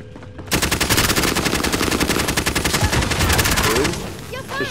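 Sustained automatic gunfire in a video game pours in as rapid, evenly spaced shots aimed at the player for several seconds, loud and close, then trails off with a faint voice underneath.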